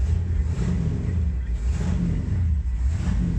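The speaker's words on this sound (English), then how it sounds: "the motor sounds really good" A 1964 Ford Galaxie 500 with a 390 V8 and four-speed runs at a steady, deep, rumbling idle. It is close and fairly loud, with no talk over it.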